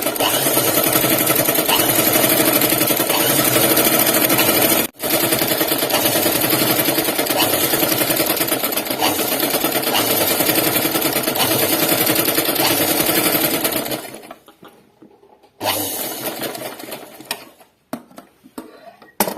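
Sewing machine stitching a collar-neck dress, its steady loud whirring run lasting most of the time with one brief stop, then ending in short, intermittent bursts of stitching toward the close.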